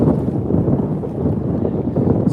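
Outdoor wind gusting hard against the microphone during a bass fishing outing, a loud, close, continuous low buffeting rumble with no clear voices.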